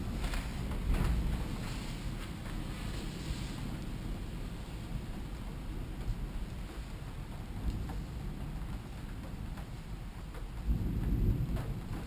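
Thunder rumbles low and steady through a brief thunderstorm, a continuous distant roll with a louder swell near the end, no voices present.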